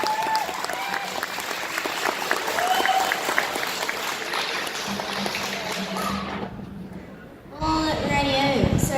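Audience applause for a cosplayer at a cosplay competition, clapping and crowd noise under voices and scattered cheers, briefly dropping to near quiet before picking back up.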